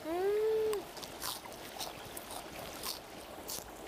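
Thick-stemmed fresh Ulsan minari (water dropwort), washed clean, is bitten and chewed up close: a short squeaky tone opens, then a handful of crisp, irregular crunches sound faintly against a quiet room.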